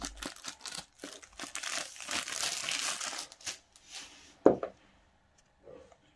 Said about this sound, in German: Wir entfernen die Folie.